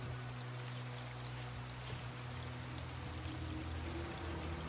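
Steady rain in the survival video game Raft, a continuous even patter and hiss of falling water with a low background hum, soft and unbroken throughout.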